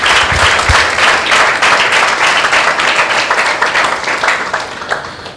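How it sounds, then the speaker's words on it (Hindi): Congregation in a church bursts into loud, sustained applause, dense clapping from many hands filling the room for several seconds before easing slightly at the end. "प्रभु के लिए क्यों ना एक जोरदार ताली हो जाए।"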